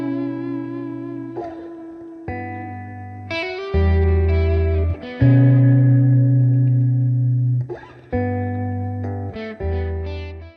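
Sustained distorted electric guitar notes and chords through an amp simulator pedal, with thick reverb and effects, playing a slow melodic lead line, loud and alone.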